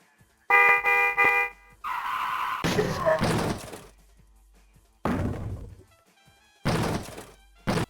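A truck horn blares in the Pepsiman video game, a loud chordal honk followed by heavy thuds, skids and crashing impacts in bursts separated by short gaps.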